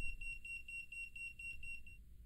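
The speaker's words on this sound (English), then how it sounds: "If voltage is present, the NCV indicator will flash and the buzzer will beep." Rapid, evenly spaced beeps from the NCV buzzer of a Dawson DCM730/731 digital clamp meter detecting voltage, a quick train of a dozen or more high pulses lasting about two seconds over faint background hiss.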